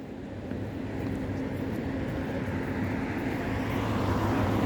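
Tram rolling at Lviv railway station, with a steady low rumble of wheels and motors that swells gradually across the few seconds and carries no talk.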